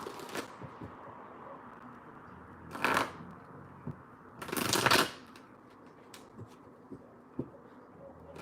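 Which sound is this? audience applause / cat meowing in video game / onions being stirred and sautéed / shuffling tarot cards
shuffling tarot cards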